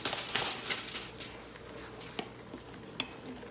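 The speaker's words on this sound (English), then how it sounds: "Now, time to give it a good mix so it starts getting its color" Shrimp fried rice with soy sauce being stir-fried in a pan, quick scraping and tossing strokes over a low sizzle, with a few sharp clicks of the utensil, close and quiet.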